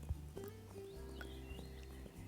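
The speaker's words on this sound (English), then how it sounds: "there actually surprisingly is a horse right here" A horse in the Forest Island area of the game Wild Horse Islands makes soft, close hoof and animal sounds, a brief whinny-like tone over low ambient hum, with no talking.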